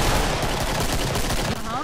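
Rapid, continuous gunfire in the co-op shooter Killing Floor fills the clip densely and loudly, with a voice talking faintly beneath the shooting.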